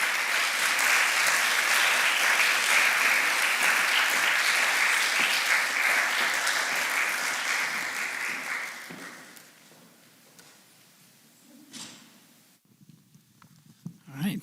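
An audience applauds loudly to welcome speakers to the stage, a dense sustained clapping that fades out after about nine seconds, followed by scattered footsteps and small movements.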